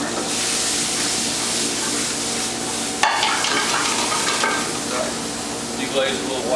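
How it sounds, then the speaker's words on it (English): A hot pan deglazed with Sauvignon Blanc white wine, a broad steady sizzle and hiss that bursts louder as the liquid hits at about three seconds, then crackles and bubbles unevenly with some scraping. "deglaze a little white wine. That's gonna really bring that flavor off the pan there."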